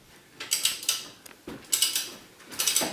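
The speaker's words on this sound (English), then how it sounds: "He came out to help to see if he could break the strut's knuckle bolts loose." A hand tool works at a car's strut knuckle bolts, giving close, quick ratcheting clicks in three short bursts with brief pauses between them.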